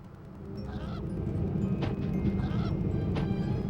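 Video game fowl from a Muppet Monster Adventure level honking and squawking in repeated calls over a steady low rumbling background, growing slightly louder, with no voices.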